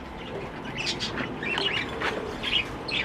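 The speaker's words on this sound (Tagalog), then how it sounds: "Ito nyo kung gaano kaamo yung ibon ni Denmark." An albino crested bird in an aviary gives a series of bright, high chirps and short calls, fairly close and irregular, over a soft background hum.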